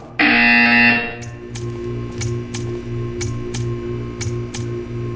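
Loud steady buzzer tone in the Portal 2 video game, held for about a second, then a rhythmic series of short ticking clicks repeating over a low droning hum.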